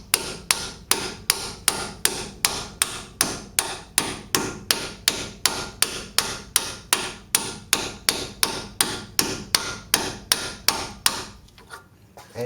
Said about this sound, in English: Really hammering her in.